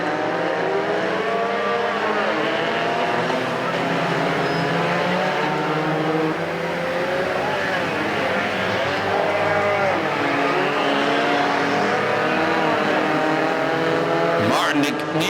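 Mini stock race cars lap a figure 8 track at Perris Auto Speedway, with loud overlapping engines droning and rising and falling continuously as they pass. Commentary plays over the engine noise.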